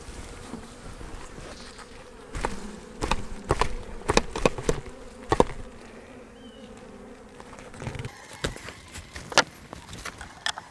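Honey bees buzz around a hive during feeding. A faint, steady hum runs under sharp knocks and clicks as the hive and frames are handled, with no speech.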